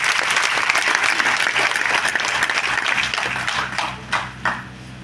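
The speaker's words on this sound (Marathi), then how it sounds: "आज या दोघा करताना जोरदार एकदा टाळ्या व्हायला पाहिजे" An audience at a Mi Lifestyle motivational business event breaks into loud, sustained applause, a dense wash of clapping that thins slightly toward the end with a few separate claps.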